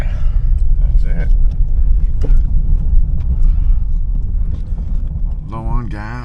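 A 2004 Lexus LS430 engine idles with a low, steady rumble under some background noise, and a voice is heard briefly near the end.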